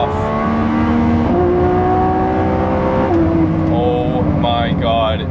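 Lamborghini Revuelto V12 in Corsa mode at full throttle, revving hard and loud up toward 9,500 RPM, its pitch climbing and then dropping sharply at each quick gear change, two shifts in close succession.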